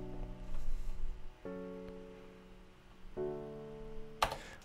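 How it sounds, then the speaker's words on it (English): Future bass chords built in Ableton with the third raised an octave play as three sustained synth stabs in sequence, clean and moderately quiet, ending in a short bright noise burst. "So it'll sound like this."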